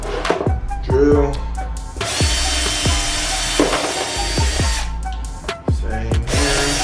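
Short, repeated bursts from a power drill cut bolt holes in the rear valence of a Dodge Challenger Daytona 392 while a carbon fiber diffuser goes on, some runs longer than others, with someone speaking between them.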